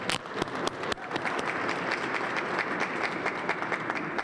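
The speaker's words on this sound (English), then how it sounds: "Give one more round of applause to our mayor" An audience at a Black History Month flag raising and celebration claps for the mayor, a sustained dense round of applause with a few sharp isolated claps at the start.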